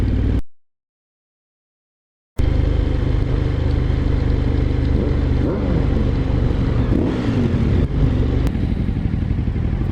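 A Suzuki Hayabusa or TLR motorcycle on a ride out, a steady mid-pitched engine note with wind rush and rattling, after a brief dropout at the start, continuous and close.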